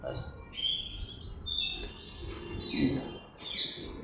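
Birdsong from a pigeon loft where blue-tailed pigeons are kept, a series of short calls and chirps repeating every second or so over a low outdoor hum, with no talking.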